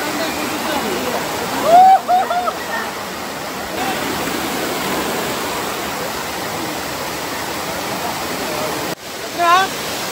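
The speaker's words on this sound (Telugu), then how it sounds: "చిన్న చిన్న వాటర్ ఫాల్స్ ఉన్నాయి." Steady rushing water from small monsoon waterfalls near Manuguru, a constant broad hiss with brief bird-like chirps and a couple of bumps near the start.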